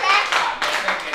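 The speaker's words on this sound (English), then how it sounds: "Clap for her." Clapping in a classroom-style setting after a child answers a question, a few bursts of hands striking in quick uneven rhythm, close and fairly loud, with children's voices mixed in.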